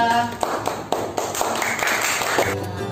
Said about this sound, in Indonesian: Beri tepuk tangan untuk kelompoknya Ica